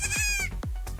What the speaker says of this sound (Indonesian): Ini anakan kambing pygmy